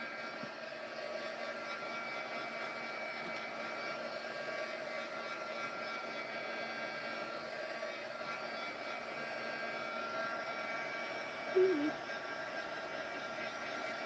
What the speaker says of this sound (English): Now for a heat tool, if you guys didn't notice, heat tool, I just use, this is actually an embossing tool.